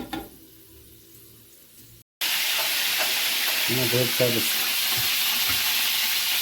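Chicken meat fries in a pan for homemade doner, a loud, continuous sizzle and hiss after a short quieter opening, with a person talking briefly over the frying.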